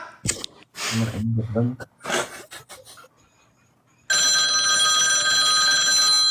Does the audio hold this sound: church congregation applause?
no